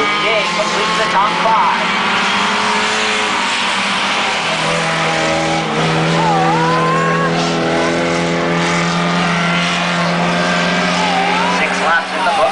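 Race cars lap the speedway at Brighton Speedway, with loud, sustained engine roars and pitch sweeps as several cars pass close by, while an announcer talks over the racing throughout.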